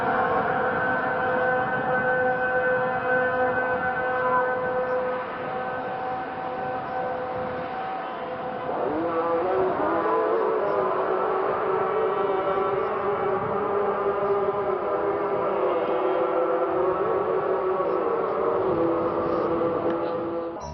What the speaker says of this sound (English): the evening was punctuated by the sound of the muezzin's call to prayers